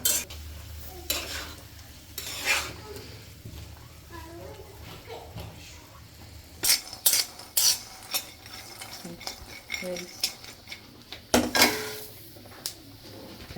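A spatula scrapes and stirs peanuts dry-roasting in a pan without oil, in irregular clattering strokes with faint sizzling, while a person talks over it.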